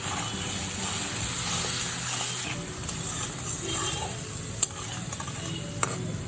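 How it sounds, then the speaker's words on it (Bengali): A ground paste of ginger, green cumin and dried chilli fries with potatoes and a splash of water in a pan, giving a steady sizzle and hiss with occasional sharp spoon clinks while being stirred. "এবার মশলাটা আলুর সাথে খুব ভালো করে কষিয়ে নেব।"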